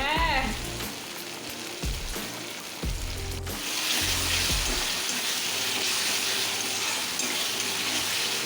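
Masala spices fry in a pan with a steady loud sizzle, with a few scraping stirs early on. Toward the middle the frying grows broader and hissier, and it carries on unbroken to the end with no talk.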